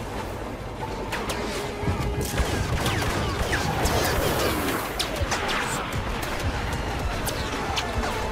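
Grenade launcher rounds fire in a Star Wars Battlefront match amid a continuous, loud wall of blasts, shots and crashes, with overlapping bangs throughout.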